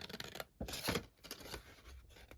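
Scissors cutting along a score line in paper or card while making a folded gift package, with a few close crisp snips and rustles separated by short pauses.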